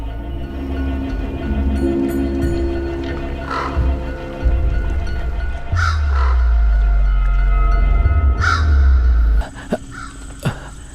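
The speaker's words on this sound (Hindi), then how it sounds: "नींद खराब कर दी कौवा कहीं का।" A crow caws repeatedly in loud bursts over a steady low rumble, with no talking.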